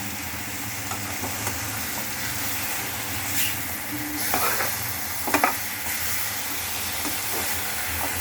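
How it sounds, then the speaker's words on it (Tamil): Squid pieces dropped into a pan and sautéed, giving a steady hissing sizzle with a low background hum and a few brief scraping stir strokes, close by and without talking. "இந்த கனவா மீனை வந்து நம்ம இதில் போடுறோம். இதை போட்டுட்டு நல்லா வதக்கிக்கிறோம்"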